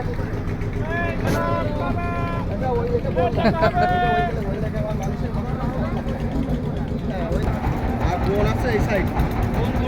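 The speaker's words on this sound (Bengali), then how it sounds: "আস্তে আস্তে আমাদের ট্রলারটি সামনে এগিয়ে যাচ্ছে কলাগাছের উদ্দেশ্যে" A steady, loud engine drone comes from a trawler moving slowly along a foggy river in a mangrove forest. Near talk and some babble run over it, and a few brief tonal calls stand out early on.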